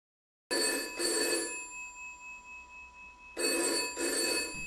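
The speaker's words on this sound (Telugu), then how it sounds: "A phone తీయకు." A telephone bell rings in two bright, close bursts, each made of a pair of quick trills, with a short hush between them and the tone fading slowly in the gap.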